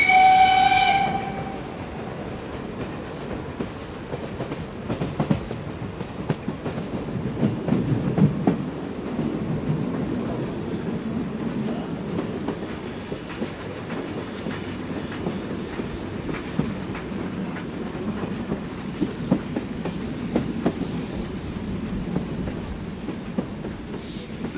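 A train horn sounds briefly, then a long special train rumbles through a station without stopping, with a steady roar and rhythmic wheel clatter on the rails.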